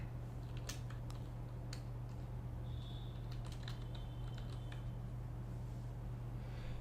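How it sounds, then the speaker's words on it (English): Quiet typing on a computer keyboard, a short run of light, irregular key clicks over a steady low electrical hum, with no talk. "this time I just remove your text here and type Tai Lopez"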